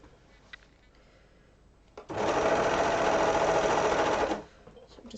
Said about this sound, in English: I will use my sewing machine.